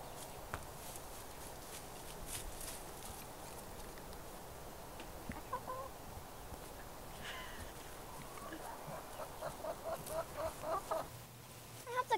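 A fluffy, tame hen raised for showing at a fair clucks softly, with a run of quick, rhythmic clucks building near the end over a quiet background with a few light footstep-like taps.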